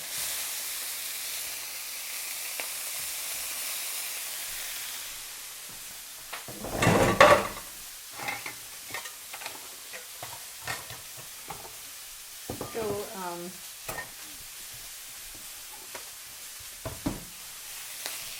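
Green and red peppers and onions saute in a pan, with a soft sizzle under sparse stirring clatters, a louder burst of shaking and scraping near the middle, and later spoon clanks.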